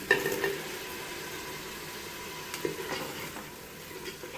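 Gentle sizzle of chopped ginger and tomatoes frying with dark brown onions for a chicken biryani, a steady low hiss with a couple of faint stirring clinks, no voices.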